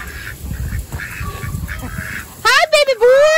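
Faint shuffling and rustling in a pen, then a burst of loud, high-pitched peeping and honking calls from baby ducks nearby, with a voice speaking quietly underneath.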